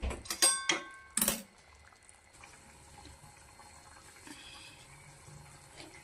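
Hot water is poured over peas for a methi-vatana vegetable dish, opening with a few short, bright splashing bursts, then settling into a faint, quiet trickle and dripping with no voices.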